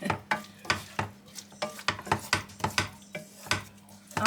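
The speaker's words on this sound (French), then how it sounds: "On mélange bien." Lasagna ingredients being stirred in a pan with a utensil, a steady run of clinking scrapes and knocks against the metal at a quick, uneven pace, close and clear with no talking.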